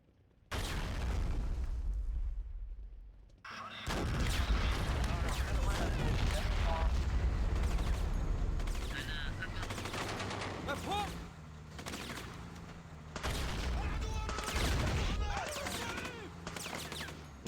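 Modern Warfare campaign firefight at the Tiyas Airbase, with repeated loud gunshots, bursts of automatic fire and heavy booms through most of the clip. Someone talks over the shooting.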